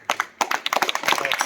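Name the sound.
students clapping loudly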